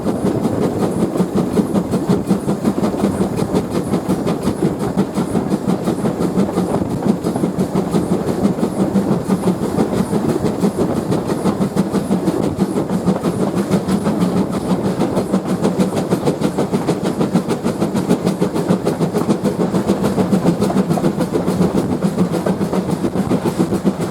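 GWR Prairie steam locomotive 4555 climbing a 1 in 56 gradient, heard from the footplate as a loud, continuous rhythmic chuffing and rattling roar, close and unbroken, with no talking.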